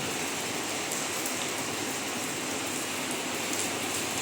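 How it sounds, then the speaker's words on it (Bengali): Rain falling on wet outdoor tiles near a parked car and trees, a dense steady patter filling the whole stretch with no talk. "কিন্তু বৃষ্টিটা হচ্ছে"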